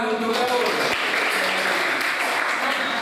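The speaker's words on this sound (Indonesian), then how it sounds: "beri tepuk tangan untuk Daud" A classroom of students applauds a student named Daud during a lesson on waste management, giving dense, steady clapping that holds at an even level throughout.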